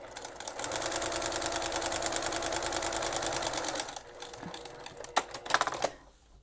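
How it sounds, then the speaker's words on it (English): A sewing machine edge stitching four layers of scrubbie sponge, a fast steady mechanical chatter for several seconds, then stopping with a few clicks and handling noises. "I want to sew this less than 1/4 of an inch, just along the edge, all the way around with the 4 layers"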